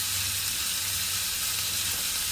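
Ground beef for hamburger stew browns in a pan, giving off a steady, loud, close sizzle with a constant hissing crackle and no pauses.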